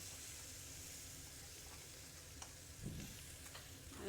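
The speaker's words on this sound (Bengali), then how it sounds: "আমি সব মশলা কষায় নিব" Ground spices fry in oil in a pan for a Bengali curry, giving a soft, steady sizzle with faint scraping stirs near the end.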